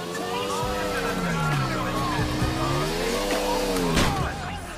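A motorcycle engine in Grand Theft Auto IV revs, rising and falling in pitch, with tire noise and background commotion, loud and continuous.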